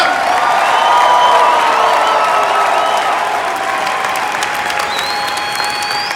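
A large convention crowd in Las Vegas applauds a live motivational talk, producing a loud, continuous wash of clapping with scattered cheers and whoops that holds steady for about six seconds.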